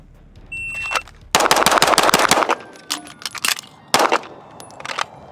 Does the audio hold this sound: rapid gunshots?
yes